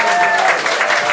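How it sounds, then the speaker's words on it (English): A live storytelling show audience at The Lyric Hyperion in Los Angeles gives a round of applause, loud, close and dense clapping from the crowd that stays full throughout this short moment. "Can we just all give them a round of applause?"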